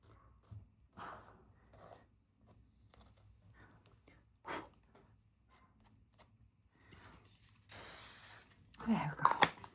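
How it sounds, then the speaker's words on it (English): Spray sealant hisses from a can onto an art journal page in a few short bursts, the longest near the end, amid quiet handling sounds of the page. "And by spraying that now, it'll be sealed."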